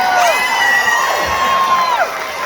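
A crowd cheering and whooping for a band's crew aboard an 80s cruise, loud overlapping high shouts and whistles rising and falling across the whole moment.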